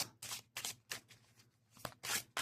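A deck of tarot-style cards is shuffled in quick riffling bursts, several short rustling snaps with brief pauses between them, close and clear with no talk.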